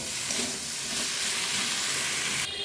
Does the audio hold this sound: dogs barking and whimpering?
no